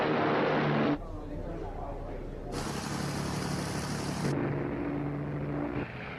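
British bombers flying toward the German industrial city of Essen in March 1943, a steady droning engine roar with low rumble that shifts in tone across the stretch, alongside other sound.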